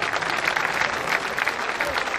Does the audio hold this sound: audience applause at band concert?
yes